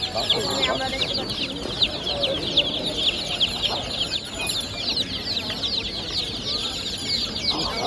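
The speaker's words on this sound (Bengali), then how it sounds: "তো বিভিন্ন জাতের পোলট্রি বাচ্চা পাওয়া যায় এখানে।" Chickens and chicks at a poultry market in Savar, dense overlapping clucks and chirps close by under a busy crowd murmur with some talking.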